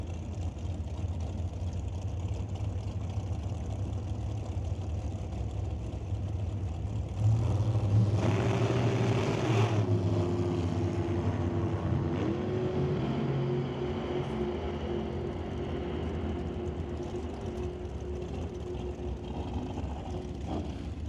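Super Comp dragsters run on an NHRA Northwest National Open Series drag strip near the water box, with a steady, loud engine rumble that jumps into a harsher roaring burst midway, then settles back into a sustained drone.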